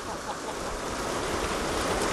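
Choppy sea waves at the Jogashima fishing spot wash and churn in a continuous broadband hiss, close and steady, with no clear individual breaks.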